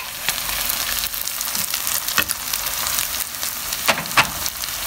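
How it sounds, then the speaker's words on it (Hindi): Chopped tomatoes frying in a pan with browned garlic and onion for a mixed vegetable dish, a steady close sizzle with scattered crackles and stirring scrapes throughout, no talking. "लहसुन थोड़ा सा ब्राउन हो चुका है, इसमें अब हम डालेंगे अपने कटे हुए टमाटर।"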